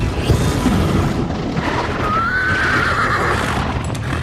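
A horse transformed into a flaming beast lets out a loud, rising whinny over a dense rumbling roar of hooves and fiery bursts, the neigh standing out clearly near the middle of the mix.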